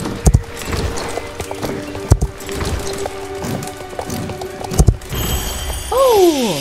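Hooves clip-clop slowly in a few loud, uneven clusters in the video game Star Stable Online, with a horse whinnying near the end and a mechanical whir in the background.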